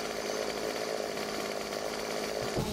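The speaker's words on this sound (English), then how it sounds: "How can you not hear my chainsaw?" Chainsaw with a loud two-stroke engine running continuously in 7 Days To Die, a steady buzzing roar held at high revs throughout with no pauses.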